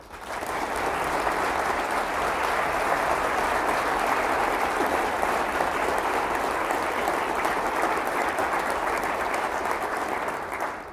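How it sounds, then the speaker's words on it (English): Sustained audience applause at a university agricultural all-hands meeting, a dense, steady wash of clapping lasting about ten seconds without a break before tapering off at the end. "I'd like for you to give him a round of applause."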